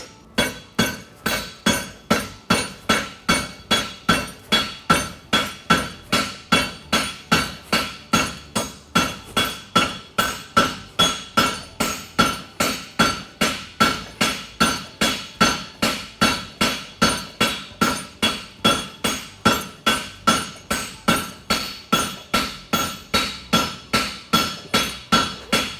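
A blacksmith forging a wedge on a tool-fullered hunter hind shoe with caulk, hammer striking metal in a steady, even rhythm of sharp ringing blows, loud and close, repeating continuously with no talk.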